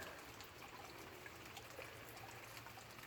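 A garden water fountain that doubles as a bird bath trickles steadily and softly, a faint continuous stream of running water with no voices.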